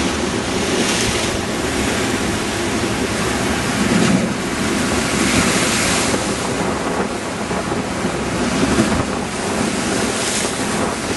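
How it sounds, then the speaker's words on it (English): Choppy sea waves at the Blackpool sea front wash and splash in a constant, loud surf roar, with wind noise buffeting the microphone throughout. "the tide's in. As you can see, it's quite choppy."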